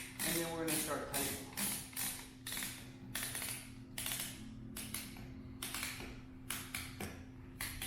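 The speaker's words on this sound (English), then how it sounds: "undoing the ratchet, bring the ratchet over the top, hooking it to the eye hook underneath the ankle hitch, and then we're going to start tightening" Ratchet on a medical traction splint being worked to tighten the strap, a long run of rapid clicking bursts in steady rhythm, close and clear, with a faint background hum.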